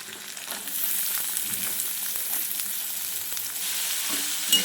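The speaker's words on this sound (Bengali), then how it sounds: "গাজরগুলো একটু ভাজা হয়ে গেছে," Carrots, garlic, ginger and green chilli sizzle steadily in hot oil in a pan for fried rice, a continuous close hiss with faint stirring clinks and no voices.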